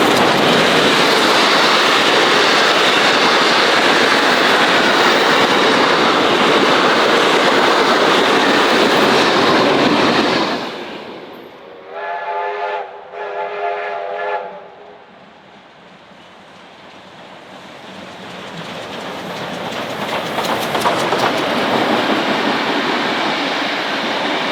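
A heritage train runs past at the Seymour railway heritage site. It roars loudly and steadily for about ten seconds, then stops abruptly, followed by brief whistle-like tones and a quiet stretch before the rumble slowly builds again.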